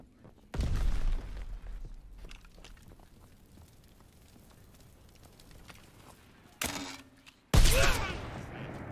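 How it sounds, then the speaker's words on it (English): A sticky bomb in a video game lands and detonates, a sudden loud blast near one second, followed by quieter rumbling debris and two more sharp bursts near the end. "Throwing sticky bomb!"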